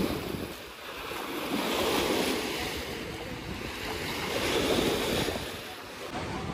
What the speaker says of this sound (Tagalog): Super lakas ng alon, oh.